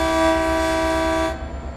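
Horn of an F40 passenger locomotive in the Train Sim World video game, one loud sustained chord-like blast that cuts off sharply, leaving a low rumble of the train underneath.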